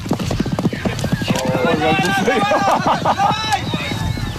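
Hooves clip-clop rapidly as a horse runs at a riders' competition in Kazakhstan, with loud rhythmic thuds mixed with a whinny and voices speaking over the top.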